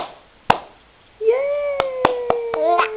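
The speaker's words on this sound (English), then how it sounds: "clap your hands." Sharp handclaps keep time to a children's song, a single clap followed by a steady run of claps as a voice sings a long held note over them.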